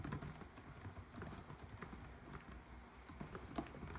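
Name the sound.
laptop keyboard typing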